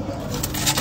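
Racing pigeons in a loft's hen section give a short, soft burst of cooing, close and brief.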